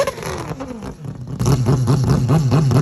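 A Mazda four-rotor Wankel rotary engine is revved, rising from a lower hum into loud, rapid, pulsing bursts that repeat in a buzzing rhythm, close and clear.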